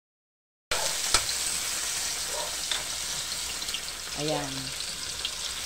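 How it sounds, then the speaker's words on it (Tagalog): Garlic, onion and tomato sizzle in a frying pan, a steady close hiss with occasional stirring clatter, while a person says a brief word over it. "gisahin lang natin si bawang, sibuyas at kamatis. Lutuin lang natin yan."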